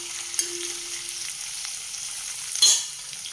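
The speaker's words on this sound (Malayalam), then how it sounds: "നന്നായിട്ട് ഇളക്കി യോജിപ്പിച്ച് അടച്ചു വെച്ച് നമുക്ക് വേവിച്ചെടുക്കാം." Potatoes frying in a pan and being stirred, a steady low sizzle with a brief scrape of stirring partway through, heard close and alone.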